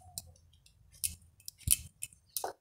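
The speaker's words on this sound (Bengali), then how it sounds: "এরপর আমি এরকম ছোট ছোট করে কেটে নিচ্ছি" Young jackfruit being chopped into small pieces with a knife for a curry: sparse, close, sharp cutting clicks and taps at irregular intervals over a quiet background, with no talking.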